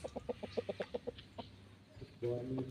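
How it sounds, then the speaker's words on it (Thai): A young white-beaked, white-shanked Thai fighting rooster gives a quick run of about ten rhythmic clucks close by, then pauses before a louder burst of sound near the end. "ตัวนี้เป็นไก่ปากขาวแข้งขาวครับ"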